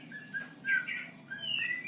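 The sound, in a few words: kacer (oriental magpie-robin) bird singing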